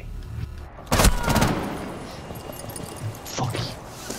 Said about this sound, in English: Twitch, go up and shoot